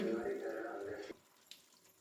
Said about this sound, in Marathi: इथे आता सगळी गाजरं स्वच्छ धुवून घेते